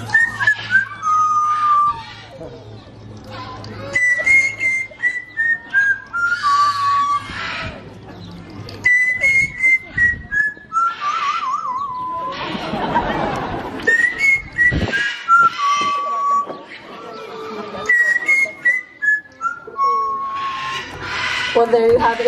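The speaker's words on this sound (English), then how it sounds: "He makes these tunes up as he goes along, so I never quite know what's gonna come out of that little beak" A pet bird whistles a made-up tune of clear, wavering notes in short phrases with brief pauses, some notes sliding up and down, loud and close, with a patch of broadband crowd noise like applause partway through.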